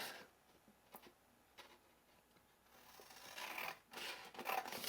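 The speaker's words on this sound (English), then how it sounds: "You're going to take your scissors" Scissors snip construction paper at close range, a few quiet cuts followed by denser rustling and slicing as the paper is trimmed into a square.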